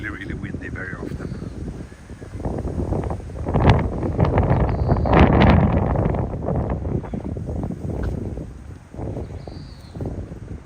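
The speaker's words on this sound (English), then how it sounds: "I hope you can still hear me over this wind." Wind gusts buffet the microphone on a city street in Tokyo, a loud, swelling low rumble that peaks midway and eases off, with a person talking beneath it.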